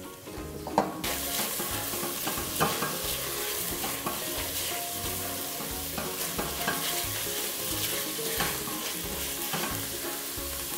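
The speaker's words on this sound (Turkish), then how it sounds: "Soğan ve kıymalarımız birlikte kavruldular." Onions and minced meat sautéing in pure olive oil in a pot for a Muğla-style minced meat and pea dish, a loud continuous sizzle with occasional stirring scrapes and clinks close by.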